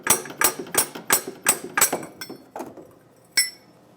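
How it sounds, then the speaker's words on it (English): Metal tool working a stuck catalytic converter flange loose on a 1998-2002 Lincoln Navigator: a quick run of about ten sharp metallic taps and clinks, then a pause and one louder final strike, close up with no talk. "Might need to pry this, this flange off. Sometimes that gets kind of stuck on there."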